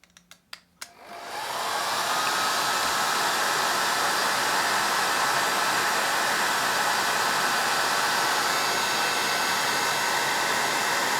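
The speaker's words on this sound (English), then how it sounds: "And then we get the hairdryer on it again." A hair dryer blows hot air onto heat shrink on the wiring of a Harley-Davidson 1200 Low Sportster during an ape bar install. A few clicks come first, then a steady, loud, close whooshing roar runs unbroken to the end.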